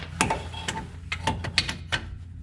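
A ratchet wrench working on 21 mm bolts during CV axle replacement on a 2006-2010 Ford Explorer, giving several quick close clicking bursts in an uneven rhythm.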